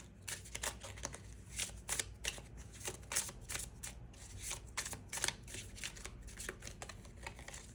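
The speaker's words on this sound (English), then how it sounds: "I'm going to pull a couple more oracle cards and a little bit more tarot" Oracle and tarot cards being shuffled and pulled, a quiet, close run of quick riffling and flicking bursts, some louder snaps among softer papery slides, with no voices.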